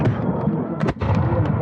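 Revolutionary War reenactors firing muskets and rifles in a battle reenactment, with dense overlapping booms and a couple of sharper nearby cracks, loud and continuous across the short stretch.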